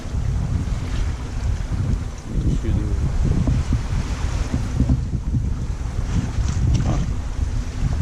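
Gusty wind buffeting the microphone over water sloshing against the hull of a sailboat under sail on the Mediterranean, a steady rushing wash with uneven swells, fairly close.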